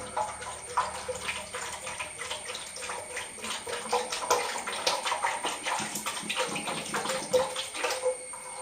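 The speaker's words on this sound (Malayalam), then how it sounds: "ഒരു കുപ്പി വെളിച്ചെണ്ണ ഒഴിച്ചു" Coconut oil pours over herbal ingredients for a hair growth oil, making a continuous close splashing and gurgling with fluctuating intensity and small ticks throughout.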